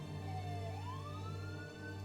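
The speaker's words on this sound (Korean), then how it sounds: "사이렌 소리가 들리고 더욱 소란스러워지더니" An ambulance siren wails steadily with rising and falling pitch sweeps over a loud constant drone, close and continuous throughout.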